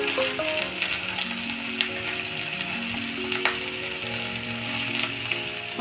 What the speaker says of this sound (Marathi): आता याला चांगलं मिक्स करून घेणार आहोत